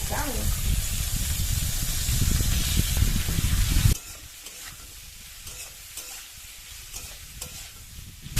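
Potatoes and vegetable stems frying in a pan give a loud, dense sizzle with stirring for about four seconds, then drop abruptly to a quieter, sparse crackle.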